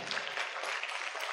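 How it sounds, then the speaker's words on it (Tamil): An audience at a Sunday catechism jubilee celebration claps steadily, a dense wash of hand claps filling the room briefly, with no talk over it. "ஜோரா கைதட்டுங்க"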